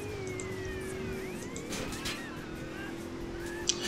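A police siren in the video game GTA San Andreas wails up and down over a steady engine rumble, with a constant hum and a few faint clicks near the end.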